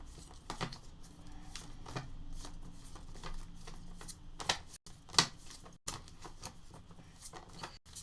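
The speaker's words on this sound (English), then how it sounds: "you'll see that my shuffling is terrible" Tarot cards shuffled by hand in an uneven, clumsy rhythm, a run of soft papery flicks and slaps with a few sharper clacks, close but quiet, with no talking.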